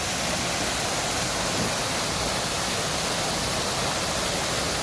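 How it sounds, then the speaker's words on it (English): An indoor waterfall in the Gaylord Opryland garden conservatory in Nashville pours with a steady, loud, broadband rush of falling water, close and unbroken throughout, with no voices over it. "There's the waterfall we just showed you."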